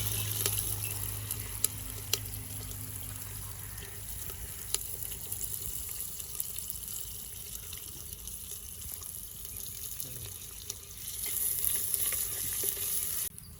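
Chopped onions frying in a pan for a pirandai kara kuzhambu, a soft, steady sizzle with occasional stirring scrapes, fairly quiet and continuous with no talking.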